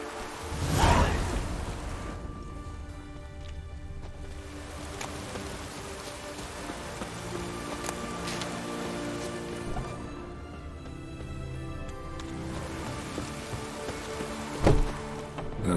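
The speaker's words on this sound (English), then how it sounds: "Looks like rain." Steady in-game rain patters and hisses across the whole stretch in Witcher 3 Heart of Stone, with a soft whoosh near the start and a low rumble toward the end.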